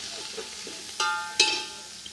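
Onion frying in a pan with chilli and spices for veg biryani, with soft stirring scrapes and two brief sharper clatters amid a low, steady sizzle, close and fairly quiet.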